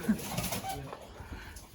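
A pigeon or dove coos softly near a home in Bali, a faint low call heard briefly amid background voices and ambient noise.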